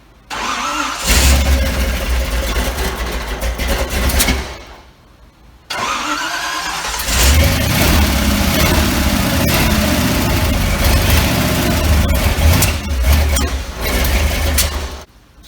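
A large V8 engine in a Toyota minitruck cranks and catches, falters briefly, then restarts and settles into a loud, steady rumbling idle up close.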